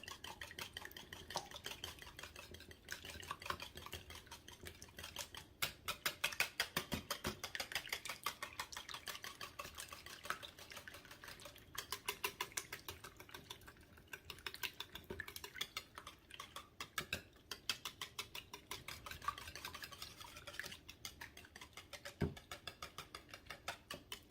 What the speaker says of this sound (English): there's our 10 eggs. I'm gonna give these a nice little whisk here